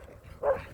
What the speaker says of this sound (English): she still heard the wheels and started barking at the wheels